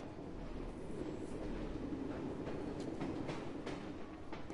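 Train riding in the video game Assassin's Creed Syndicate, a steady rumbling rail roll with faint rhythmic clatter, constant and fairly quiet, no talking.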